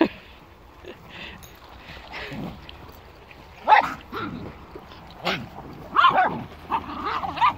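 Several dogs bark and yip intermittently on a walk into the woods, close and fairly loud, while a person talks and calls to them.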